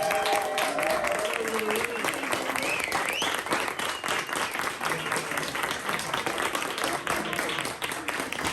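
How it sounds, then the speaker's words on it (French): Loud, sustained applause from a large crowd, steady clapping filling the whole stretch with some voices mingled in. "tu parlais de standing ovation où tout le monde l'applaudit"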